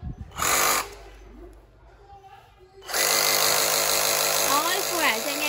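A Dekton cordless reciprocating saw, running on a standard battery, whirs loudly in two bursts, a short one then a longer sustained run, with someone talking in the quiet gap between.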